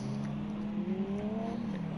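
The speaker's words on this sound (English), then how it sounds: "this is beautiful sounds of the Lamborghini" Lamborghini race car engine at Bathurst during a club sprint race night, a steady droning engine tone with rising pitch sweeps as it revs, heard moderately near without talk.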